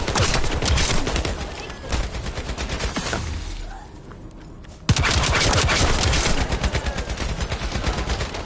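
Machine gun fire in the shooter game The First Descendant, with loud rapid bursts of automatic shots in dense runs, a brief lull in the middle, then sustained firing resuming close up.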